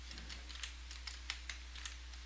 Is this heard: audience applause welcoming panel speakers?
no